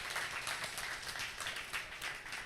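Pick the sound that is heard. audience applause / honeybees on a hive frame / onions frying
audience applause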